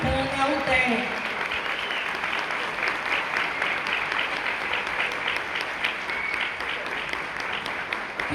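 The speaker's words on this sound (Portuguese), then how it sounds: "Quero pedir uma salva de palmas bastante calorosa ao nosso coordenador geral, José de Jesus Santana, UDEM." Warm, sustained applause fills a hall at a family farming congress and fair in Bahia, a dense and even clatter of many hands that carries on throughout, with a brief voice at the very start.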